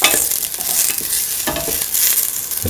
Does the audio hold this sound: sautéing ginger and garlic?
yes